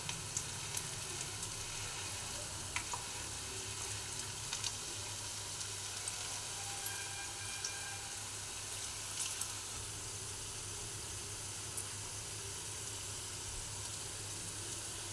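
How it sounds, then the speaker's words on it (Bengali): Okra (ladyfinger) kurkure frying in oil over a low gas flame gives a soft, steady sizzle with occasional faint crackles and pops, quiet and without any talking. "এই দেখুন এইভাবে ছেড়ে দিতে হবে, আর কম গ্যাসে এটাকে ভাজতে হবে।"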